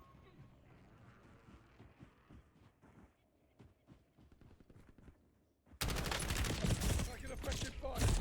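Video game gunfire in Warzone: scattered shots and clatter under a game voice at first, then a loud, dense burst of continuous automatic fire erupting near the end.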